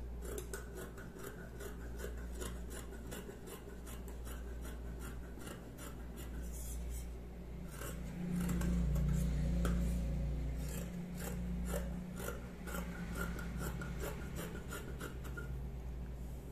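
Scissors cut through fabric for a men's sports bikini, a quiet, steady rasping snip that continues throughout, close up with low background hum and no talk.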